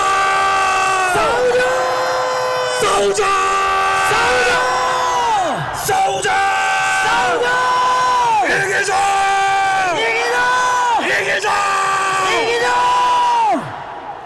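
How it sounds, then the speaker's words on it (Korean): A large outdoor rally crowd at Dong-Daegu Station roars with loud, sustained shouting and cheering, rising in repeated rhythmic waves of chanting voices that swell and fall over the whole stretch. "우리의 이 함성은 영원토록 대한민국의 메아리처럼 울려 퍼질 것입니다"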